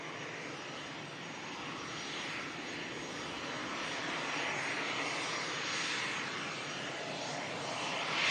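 Embraer Legacy business jet arriving at Manchester Airport after a short hop from Leeds, a broad, steady engine roar that swells gradually and holds at a moderate distance, with no talking.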